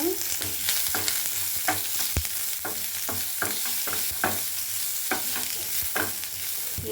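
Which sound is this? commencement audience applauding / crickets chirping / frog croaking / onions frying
onions frying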